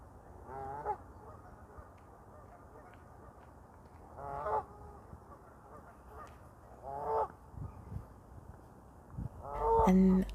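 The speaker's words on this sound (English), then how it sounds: "And I think these are some geese." Geese honk in a few short bursts spaced several seconds apart, fairly distant against quiet outdoor background noise, with a louder honk near the end.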